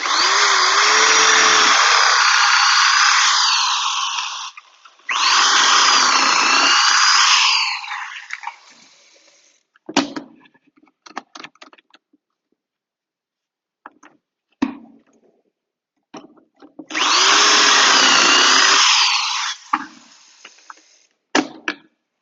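A power drill whines loudly in three long bursts drilling pocket holes with a jig, separated by quieter clicks, knocks and handling sounds, close up with no talking.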